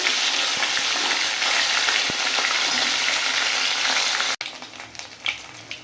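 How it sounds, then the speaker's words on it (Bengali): Bhola fish fry in hot oil with a loud, dense, continuous sizzle. Near the end it briefly cuts out, then returns lighter and more crackly. "দেখো মাছগুলো সুন্দর করে ভেজে নিয়েছি"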